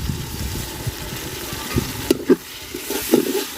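Ground ginger, cumin and garlic paste frying in a pan for khichuri, with intermittent clanks and scrapes of stirring, over a low rumbling background hum.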